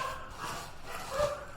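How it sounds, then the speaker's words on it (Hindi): Several dogs fighting outdoors, with short barks and yips rising and falling at a moderate distance. "बहुत सारे कुत्ते आपस में यहां लड़ रहे हैं"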